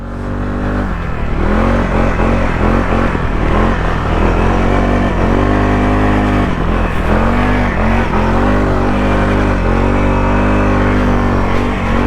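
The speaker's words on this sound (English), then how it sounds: "The 600 class ATVs are great out here in the trails" A CFMOTO CFORCE 600 ATV engine roars loud and close while riding on trails, holding a continuous drone with repeated rises and falls in revs as the throttle changes.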